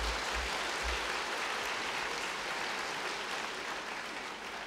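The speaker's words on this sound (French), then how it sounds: "vous pouvez applaudir, bien sûr." An audience applauds at a book-fair interview event with Jacques Chancel, a steady dense wash of clapping from many hands that holds evenly for several seconds with no talk over it.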